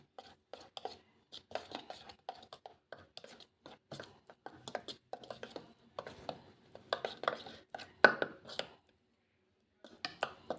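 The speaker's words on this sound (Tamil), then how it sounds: "இது எல்லாமே நல்லா மிக்ஸ் பண்ணிக்கலாம்." Face pack of turmeric and rose water being mixed in a small bowl, faint irregular scraping and tapping strokes with short gaps, close by and quiet.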